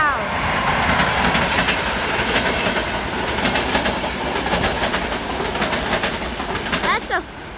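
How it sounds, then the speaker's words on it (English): A fast little train of a single locomotive rushes past close by at Lamač, a loud steady roar of wheels with clickety-clack rhythm over the rails throughout, and a brief squeal near the end. "That's a fast little train."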